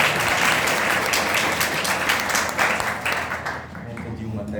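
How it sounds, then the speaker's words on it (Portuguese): A group applauds together, a dense, sustained wash of hand claps that stays loud and steady for several seconds before easing slightly at the end. "Agora a gente vai bater palmas para vocês ouvirem que a turma ouviu."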